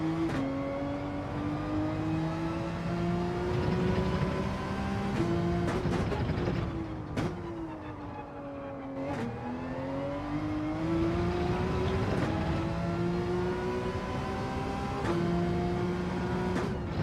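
A race car engine roars in Gran Turismo 7 during a daily race, revving up through repeated gear changes, each climb in pitch cut by a brief dip, loud and continuous throughout.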